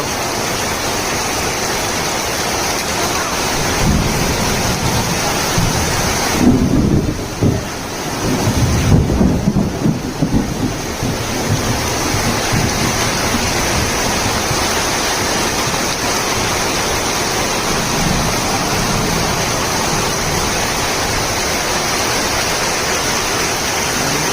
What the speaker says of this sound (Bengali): আমরা দেখতে পাচ্ছি শিল পড়তেছে বৃষ্টিতে, আকাশে বজ্রপাত হচ্ছে ভয়ঙ্কর।